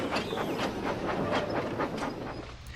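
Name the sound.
train engine departing with coaches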